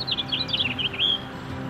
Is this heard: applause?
no